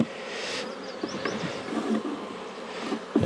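Honey bees buzz on a hive frame, a close, dense, steady drone with wings whirring in and out of the sound while the frame is moved.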